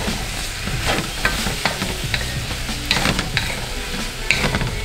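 Black pepper pork stir-fried in a wok with a wooden spoon: a steady sizzle runs throughout, broken by repeated scraping and clacking strokes of the spoon against the pan, close and fairly loud, with no voices.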